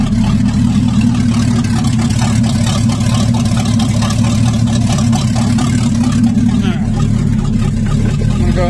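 A 1974 Datsun car engine running steadily after firing up, a loud, close, continuous rumble with a rough low throb and no breaks, with a voice talking over it.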